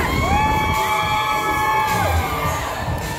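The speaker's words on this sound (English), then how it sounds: "Katie, give it up for Katie" A crowd of children shouts and cheers loudly for a participant at a DJ's live event, with sustained high-pitched screaming throughout.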